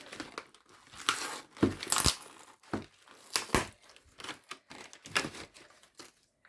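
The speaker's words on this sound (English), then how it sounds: "Come on, plastic bubble, come off." Plastic bubble packaging being pulled off a Disney Snow White doll: close, loud crinkling and crackling in irregular bursts, with sharp snaps as the stiff plastic gives way.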